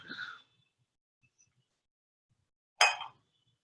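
A glass clinks twice, two short bright taps about two and a half seconds apart, close by, with near silence between them and no talking.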